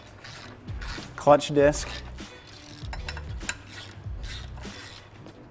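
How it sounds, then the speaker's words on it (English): Ratchet working around the bolts of a car's clutch pressure plate, tightening them evenly a little at a time; a few quick clicking bursts close by, with someone speaking over part of it. "I'm just going to go around and tighten up these bolts all evenly"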